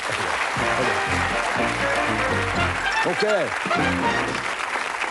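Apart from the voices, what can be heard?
studio audience applause on game show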